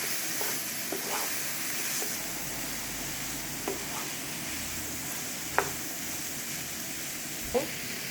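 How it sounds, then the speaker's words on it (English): Broccoli is stirred into creamy chicken in a pan, giving a continuous soft sizzle broken by a few scattered clinks and scrapes of the spoon. "add your broccoli on top of it. Mix them together."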